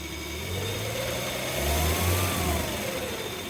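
Engine revving up while driving a TH400 automatic transmission on a transmission dyno, a loud, close, rising mechanical roar with a steady whine over low rumble.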